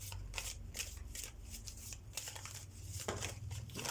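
Oracle cards are shuffled close up, a soft papery riffling and flicking that repeats in quick bursts over a low background hum.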